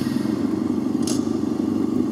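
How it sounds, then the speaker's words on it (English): An electric motorcycle with a clutch, oil tank and air intake idles with a steady low mechanical hum, broken once midway by a single short, sharp clunk as the gear engages. "For example, you can hear when I engage the gear."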